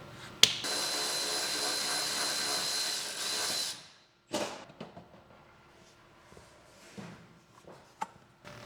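A power tool whirs continuously for about three seconds while 12mm bolts come out of the stock plastic side steps on a Toyota 4Runner. It stops, gives a short second burst, then leaves quiet clicks and handling noises.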